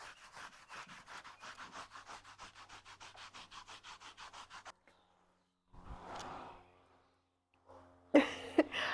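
Rhythmic brush strokes rubbing over a horse's coat, about two per second, close and steady, then a pause, a soft rustle and a brief snort-like sound, followed by louder scraping near the end.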